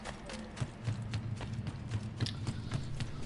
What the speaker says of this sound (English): So let's get on the horse.